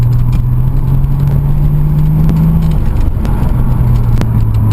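A Toyota Supra engine runs rough on old, bad fuel, giving a loud, close, steady drone with a few faint, sharp pops.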